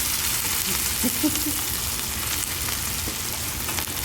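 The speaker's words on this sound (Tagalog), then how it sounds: "Piniprito ko po itong chicken breast muna bago ko ihalo dito sa lulutuin ko." Chicken breast fries in a pan with a constant, dense sizzle and crackle of hot oil, close and fairly loud, steady throughout with no talk over it.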